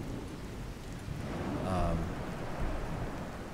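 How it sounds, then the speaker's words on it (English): Thunderstorm with steady rain from the True Storms mod in a video game, a constant hiss of rainfall with a low thunder roll swelling in the middle. "the thunder is just driving me crazy"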